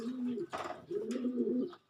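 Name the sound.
pigeon cooing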